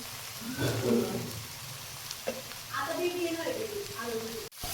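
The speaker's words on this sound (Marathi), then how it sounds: "हे परतताना ह्याच्यामध्ये थोडंसं मीठ टाकते म्हणजे शिमला मिर्च पटकन परतत." Capsicum sautéing with a pinch of salt in a home kitchen pan makes a soft, steady sizzle with occasional stirring scrapes, partly under someone speaking nearby.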